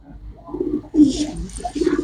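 Pigeons with black eyes and white heads coo in low, throaty bursts, growing louder midway and repeating near the end, with faint bird chatter above.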